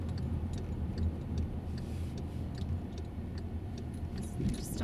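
A car's turn signal indicator ticking during a driving lesson, a faint, regular clicking rhythm over low cabin engine rumble.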